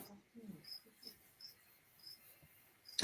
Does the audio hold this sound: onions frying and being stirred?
no